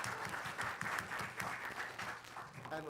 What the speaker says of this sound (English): So round of applause for Wells.